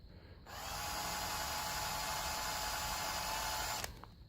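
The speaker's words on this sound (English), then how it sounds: "Keep that drill bit as square as you can." A power drill whirs steadily for about three seconds as its bit marks a Lexan plastic canopy, starting and stopping abruptly, a close, even high-pitched buzz with no talk.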